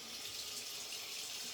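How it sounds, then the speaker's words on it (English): Lukewarm water runs steadily from a tap for a post-shave rinse to wash off pine tar soap, a continuous close splashing hiss with no speech. "a bit of a lukewarm water rinse first to get the soap off"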